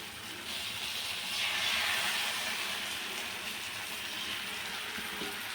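Dosa batter poured onto a hot pan, giving a steady, moderately loud hissing sizzle that swells slightly after the first half second and then holds evenly, with no talking.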